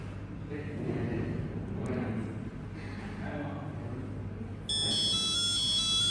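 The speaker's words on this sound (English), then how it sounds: "as the alarm reached, the alarm indeed sounded" An electronic alarm beeps in a repeating high tone after a 40-second timer runs out, starting suddenly near the end and continuing steadily over a low hum and quiet murmur.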